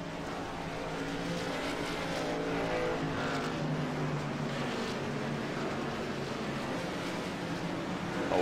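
Race cars roar around the track at the green flag of a season-opening super race, a dense continuous engine drone from a packed field, steady and loud throughout with no talk.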